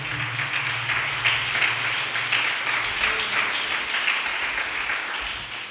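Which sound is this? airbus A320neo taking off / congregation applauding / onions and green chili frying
congregation applauding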